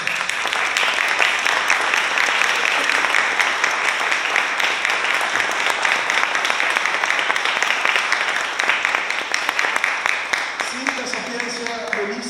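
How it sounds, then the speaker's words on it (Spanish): Sustained audience applause fills a book presentation event for the National Library's magazine issue, a dense steady clapping wash lasting throughout with faint voices and a brief whistle near the end. "Antes que nada a Lisa Bloch, a quien pido un gran aplauso."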